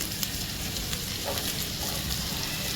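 Onions frying in melted butter in a pan give a steady, close sizzle with fine crackle throughout, alone and without talk.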